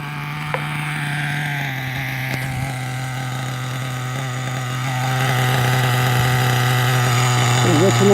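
A small Exceed 28 model nitro engine runs steadily with its mixture richened, its tone nearly constant and buzzing close by before it grows slightly louder in the last few seconds.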